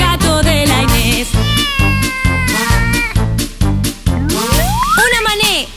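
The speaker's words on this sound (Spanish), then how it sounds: "con el gato de la Inés" Repeated cat-like meows ring out over loud, bouncy children's pop music with a rising, springy sliding tone; the meows may be sung or produced as part of the song rather than by a real cat.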